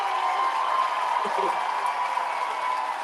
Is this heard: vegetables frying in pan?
no